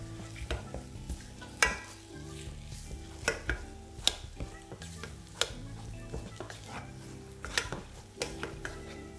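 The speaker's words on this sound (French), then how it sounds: "on va venir dessécher ce qu'on appelle notre panade en revenant sur le gaz" Choux panade dough being stirred and dried in a saucepan over a gas flame, with repeated scraping strokes and small knocks of a utensil against the pan, close and fairly quiet, with a faint sizzle beneath.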